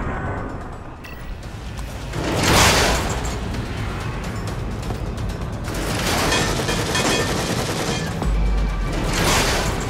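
Heavy gunfire and booming blasts in The Evil Within, with several loud surges of shots and a swelling, continuous battle din throughout.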